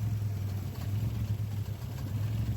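A Volkswagen Golf Mk1 engine idles steadily during carburetor tuning, a low, even, slightly lumpy hum heard alone and fairly close.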